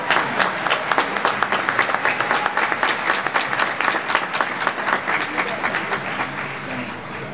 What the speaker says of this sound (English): Please join me in giving all our graduates a well-deserved round of applause.